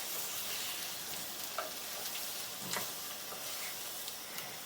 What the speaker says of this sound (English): we will cook it for a few minutes inside the wok until the tomatoes start softening up